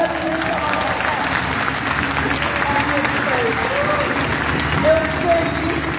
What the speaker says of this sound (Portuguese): Eu queria começar minha fala pedindo que a gente aplaudisse a existência do Ministério da Cultura e a ministra Margarete